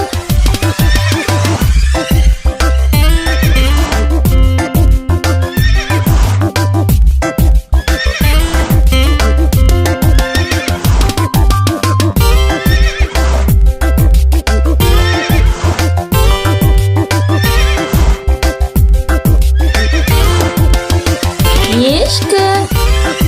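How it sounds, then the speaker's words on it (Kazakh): A horse neighs and whinnies repeatedly and loudly up close, with some hoof clip-clop between calls and a steady background tone underneath. "At, жылқы."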